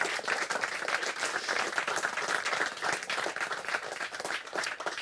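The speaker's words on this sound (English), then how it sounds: "Let's have a round of applause for everybody involved in the live stream." A live-music audience at a lunchtime gig claps for the stream crew, producing close, lively applause with distinct individual claps and a fairly loud, uneven texture throughout.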